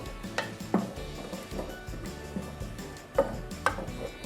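Curry paste being stir-fried in a pan over low heat for a red curry with roast duck, with soft continuous scraping and stirring, occasional sharp clinks of a utensil on the pan, and a faint sizzle underneath.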